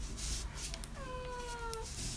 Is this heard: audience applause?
no